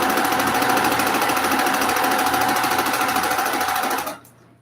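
A home sewing machine driven by a foot pedal runs loud and steady with a continuous whirring hum, then stops abruptly near the end.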